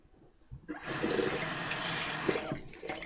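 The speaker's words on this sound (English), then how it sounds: "I'll fill it with hot water, and I'll put a lid on it" Hot water from a tap pours into a container after a short quiet start, a steady splashing rush that swells, holds for a couple of seconds, then cuts off.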